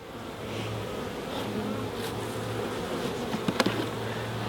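Bees hum steadily around an open beehive during an inspection, a dense, even drone close by with no talking.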